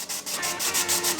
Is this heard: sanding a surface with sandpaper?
yes